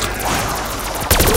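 Rapid automatic gunfire in a custom Black Ops 3 zombies map, loud and dense, a continuous stream of shots with a sharper, louder burst near the end.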